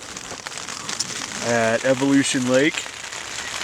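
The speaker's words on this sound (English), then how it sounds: "It's cold, windy, and raining outside." Rain patters steadily on a surface close by on a cold, windy day by the South Fork of the San Joaquin River, a constant hiss with someone talking briefly over it.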